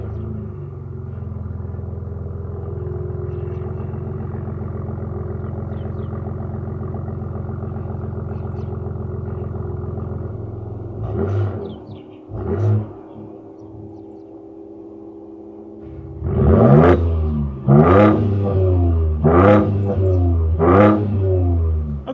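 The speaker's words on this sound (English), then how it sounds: "That was the first rev, and the last one was Baja mode." A Ford Ranger Raptor with real metal tailpipes and an adaptable exhaust idles with a low rumble, gives a couple of short revs in quiet mode, then a series of four louder, sharper revs in Baja mode, close and alone.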